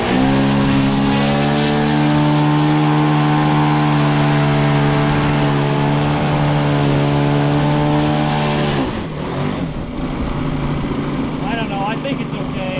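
The glow engine of an 83-inch balsa RC trainer plane screams at full throttle, a loud steady high-pitched whine close by for about nine seconds, then drops off abruptly as a voice speaks.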